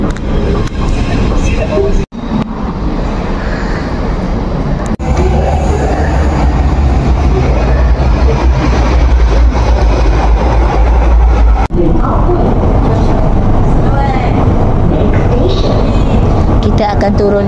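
Steady rumble of an MRT train in motion with a low engine drone, joined by people talking over the noise.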